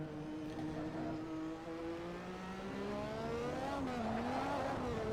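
A McLaren MP4/4 Formula 1 car with a single-turbo engine at Spa in Assetto Corsa, a steady droning engine note rising gradually in pitch as it accelerates, with a brief tire squeal and no talk.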